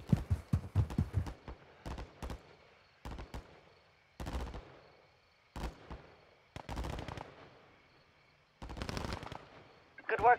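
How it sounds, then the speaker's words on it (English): Bursts of gunfire at targets in Modern Warfare 2, a rapid cluster of shots opening, then repeated short volleys separated by brief pauses, fairly close and crisp. "you need to shoot and move to the targets"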